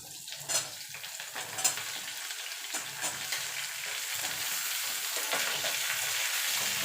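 Bitter gourd and pumpkin pieces sizzle steadily in hot oil in a pan, with intermittent stirring scrapes over a constant close frying hiss.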